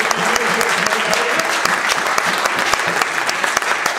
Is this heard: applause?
yes